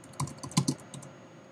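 Several sharp clicks of a computer mouse on a Mac, spaced irregularly over about a second, close and fairly quiet with no talking.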